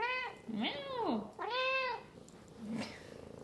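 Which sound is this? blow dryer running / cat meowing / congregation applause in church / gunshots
cat meowing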